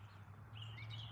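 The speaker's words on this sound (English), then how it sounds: "What bird is that? That's a robin there." A robin sings outdoors in faint, thin chirps that come in during the second half, far off and quiet over a low steady hum.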